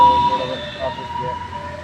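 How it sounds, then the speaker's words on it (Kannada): Ambulance siren passing at night, a steady wailing tone running through the whole short stretch with traffic rumble beneath and a voice speaking briefly. "ರಾತ್ರಿ ಆದರೂ ಆಂಬುಲೆನ್ಸ್ ಹೋಗ್ತೈತೆ."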